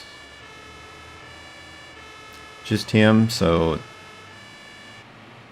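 An ambulance siren wails in the Emergency Call 112 game, a short loud burst of rising and falling tones that stops after about a second, over a steady low electronic hum, with someone speaking briefly.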